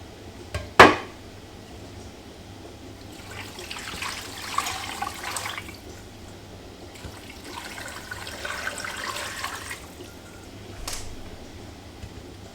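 About 2 litres of water is poured from bowls into a pressure canner while making homemade chicken and ham bone broth, with a sharp clank near the start followed by two long, splashing pours separated by a pause and a final light knock.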